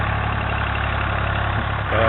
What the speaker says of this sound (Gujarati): અત્યારે તો ટ્રેક્ટર હાલે છે